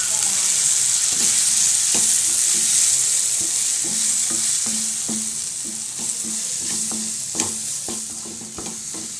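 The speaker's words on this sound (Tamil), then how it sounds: "அதை மூணு ஸ்பூன் அதை இதில் போட்டுடலாம் போட்டு கிளறலாம்" A spoon scrapes and stirs masala in a hot pan for yam kuzhambu over a steady sizzle of frying, with irregular clinks against the metal.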